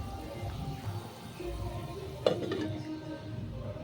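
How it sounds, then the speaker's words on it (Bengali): A lid is set onto a cooking pan of pui mituli bhaja, Malabar spinach stir-fry with turmeric and a little sugar, giving a single sharp clink midway over a low, steady sizzle. "এবার আমি ঢাকাটা দিয়ে দেবো।"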